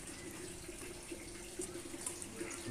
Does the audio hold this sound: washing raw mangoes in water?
yes